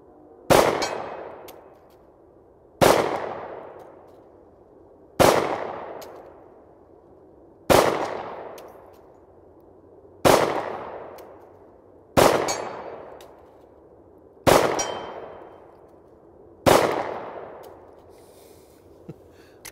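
A Smith & Wesson M&P M2.0 10mm pistol fired at a target about 55 yards away: eight loud, sharp shots spaced evenly a couple of seconds apart, each followed by a ringing decay.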